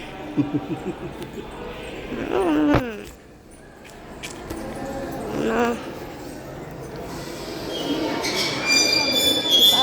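A train departing a station rumbles and grinds, with screeching wheel squeals early on and a steady rolling roar building toward the end, heard up close.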